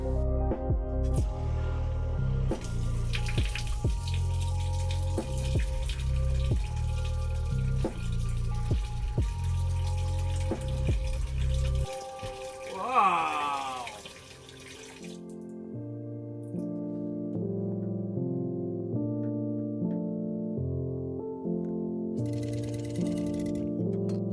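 Water runs steadily from a faucet into a copper sink in a converted bus, with a mechanical hum beneath; the flow changes partway through, then a tonal hum continues alone.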